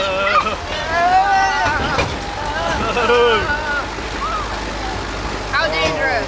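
A tractor engine rumbles as it drives down a hill outdoors, mixed with wind buffeting the microphone and people talking over it.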